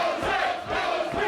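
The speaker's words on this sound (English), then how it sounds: "This crowd is absolutely alive and thriving" A wrestling arena crowd cheering during an Open Door War match, a brief burst of loud, dense roaring and yelling from many people.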